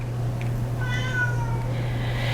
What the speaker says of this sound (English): that is my cat meowing in the background